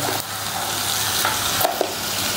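Fenugreek seeds sizzling steadily in hot oil, a loud continuous crackle up close, with a few light clicks of stirring.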